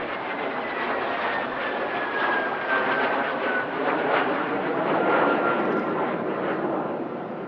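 A Morane-Saulnier MS-760 Paris jet flies past at an airshow, its broad, steady engine roar swelling slightly as it passes, with a faint descending whine running through the noise.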